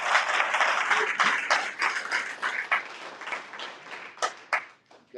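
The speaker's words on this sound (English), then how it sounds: "So another round of applause, please." A hall of fame ceremony audience applauds, a dense wash of many hands clapping that thins out toward the end into scattered individual claps, moderately distant and with no talk over it.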